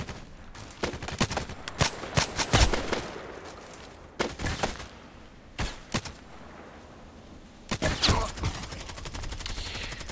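SVD rifle shots in the online shooter Contract Wars, a scattered series of sharp, loud cracks spread over about ten seconds, some close together and others spaced out, over quiet game ambience.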